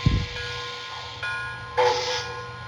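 Steady mechanical hum of an MTH Protosound 3.0 model train engine with faint tonal whine, followed by bursts of hissing noise partway through.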